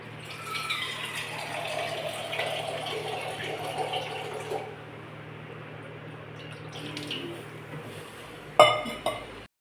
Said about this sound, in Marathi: आता ह्याला झाकण ठेवू आणि ताटावर पण पाणी